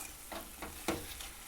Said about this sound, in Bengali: এই দুধটা দিয়েও সমানে এর সাথে নাড়াচাড়া করে দেব।